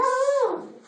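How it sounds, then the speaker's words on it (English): A dog gives a single short whimper, a clear, close, fairly loud whine that slides downward and fades within a second, with no one talking over it. "that was my dog"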